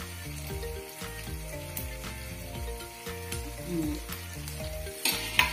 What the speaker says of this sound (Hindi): ఇప్పుడు ఇందులో ఒక పావు కప్పు కారం వేస్తున్నాను